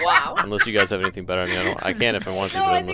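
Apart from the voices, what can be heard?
None of the usual background noises is heard.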